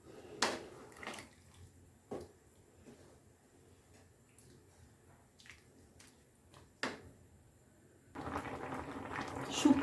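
Bengali shukto vegetables boil in a pot with soft, scattered bubbling pops over a quiet background, then a louder, steady hiss rises for the last couple of seconds.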